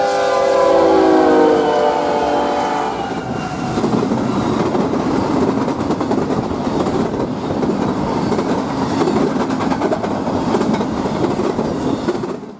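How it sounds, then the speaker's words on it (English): BNSF 6741, a Q freight train, speeds past on the Southern Transcon with a loud, continuous rumble and rapid clatter of the cars going by, close and steady, after a horn sounds at the start. "After the Cadiz local passed, BNSF 6741, a Q train, sped past us."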